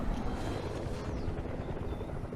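A helicopter's steady rotor drone in Fortnite fills the scene, loud and constant, a low thumping rumble with no talking over it.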